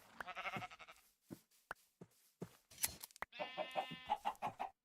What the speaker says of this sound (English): That's not a sheep, that's a chicken.